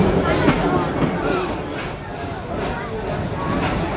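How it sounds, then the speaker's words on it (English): Serengeti Express train rolling through Busch Gardens Tampa toward the Nairobi station, a continuous rumbling ride noise with faint clicks, heard from onboard under a loud public-address voice. "We are approaching the Nairobi train station at this moment."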